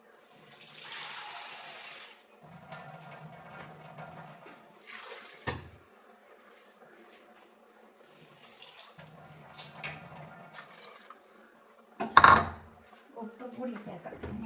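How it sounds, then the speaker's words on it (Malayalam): Water is poured into a cooking pot for a tomato curry in a home kitchen: a short splashing pour at the start, then soft utensil clinks and a sharp metallic clatter nearby. "വെള്ളം ഒഴിക്കും."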